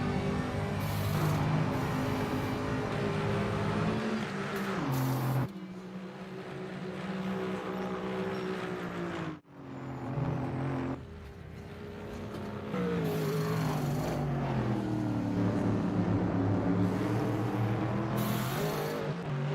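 GT race cars running the 2019 Nürburgring 24 Hours on the Nordschleife near Kesselchen and the Mountain Curve, engines droning loudly and continuously with revs climbing and falling, a brief dip midway before the roar returns.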